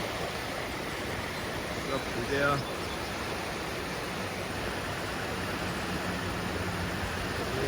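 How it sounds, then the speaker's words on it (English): A river swollen by Tropical Storm Helene rushes in Roan Mountain, Tennessee, a constant loud broadband roar of fast water throughout, with a brief voice heard over it. "This is the river."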